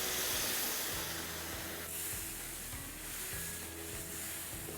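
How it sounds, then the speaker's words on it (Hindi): Sugar syrup poured into chana dal halwa with cardamom powder in a hot pan gives a steady, soft sizzling hiss, fairly quiet, with no talk. "और अब इसमें हम हमारा वो चाशनी डालेंगे"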